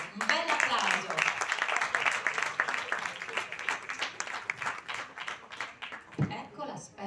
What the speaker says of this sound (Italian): Un bel applauso.